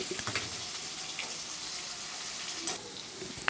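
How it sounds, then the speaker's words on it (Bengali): Potato pieces fry in oil in a pan as part of a rohu fish and kohlrabi curry, sizzling steadily and close up, with light stirring clinks and no talking. "আলুগুলো ভাজা হয়ে গেছে"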